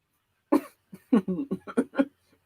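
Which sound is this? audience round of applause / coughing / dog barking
coughing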